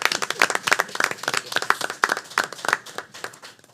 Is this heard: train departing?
no